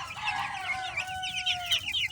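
Backyard chickens sunning outdoors give a quick run of loud, close clucks and short squawks with a brief crowing note, over a quiet low background.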